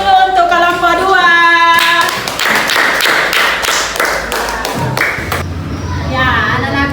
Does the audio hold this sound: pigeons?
no